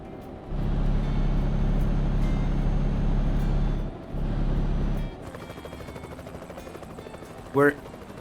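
A low, rumbling helicopter engine in the video game Euro Truck Simulator 2 thrums steadily, then drops away, leaving a thinner mechanical hum and a brief rising whine near the end.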